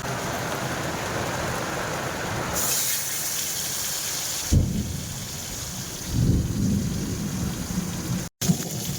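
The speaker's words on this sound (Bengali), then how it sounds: "বাইরে বিশাল বজ্র পড়ছে বাবা।" A thunderstorm with heavy rain pours steadily outside a home kitchen, with loud rolling thunder cracks breaking through the hiss of rain partway through and again near the end.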